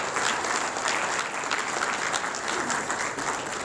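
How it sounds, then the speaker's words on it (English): Dense, steady audience applause filling a hall during remarks on membership growth at a fraternal order's meeting, sustained clapping from a large crowd throughout. "Big round of applause for all of you"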